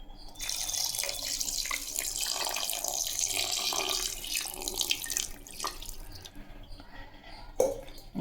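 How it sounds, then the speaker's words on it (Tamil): Water pours steadily into a pressure cooker holding 1 kg of mutton for biryani, a continuous splashing stream that tapers into a few drips near the end, with no talk over it. "இப்போ தண்ணி சேர்த்துக்கலாம்."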